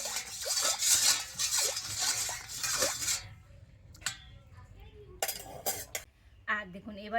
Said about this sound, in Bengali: তো লবণটা জলের সাথে এইভাবে ভালো করে গুলে নিতে হবে।